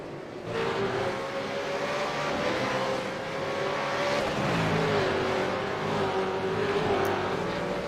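Race cars on the Oulton Park circuit during an AOSC Super Series race on cold tyres, a loud, continuous engine roar that holds steady with a slow rise and fall in pitch as cars pass.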